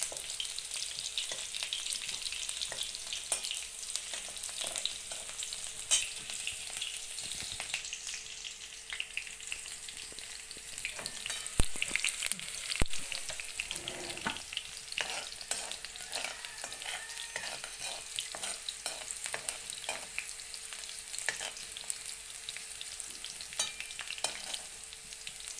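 Sago pearls (sabudana) roasting in a pan while being stirred, a steady dry crackle and sizzle that runs without a break and carries scattered scraping ticks from the spoon, heard alone with no talking.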